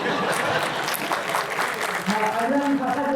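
An audience at a comedy show claps in sustained applause, a dense and fairly loud crowd sound, with someone talking over it.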